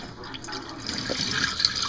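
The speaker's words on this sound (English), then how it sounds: "You just pour the top water off and down the sink" Tannin-laden water is poured off soaked acorn meal into a kitchen sink, a steady close splashing trickle with small drips, continuous throughout.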